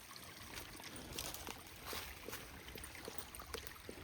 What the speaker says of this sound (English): we've got a water crossing here, Jack